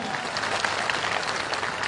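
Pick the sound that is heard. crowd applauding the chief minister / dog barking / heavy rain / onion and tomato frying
crowd applauding the chief minister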